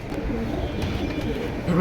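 Pigeons coo at a pigeon seller's stall, a soft low murmur of birds close by that runs steadily through the moment, with faint background noise.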